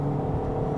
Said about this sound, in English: this CVT gearbox, which starts to produce this droning sound